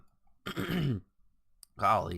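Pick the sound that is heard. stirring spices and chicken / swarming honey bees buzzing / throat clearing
throat clearing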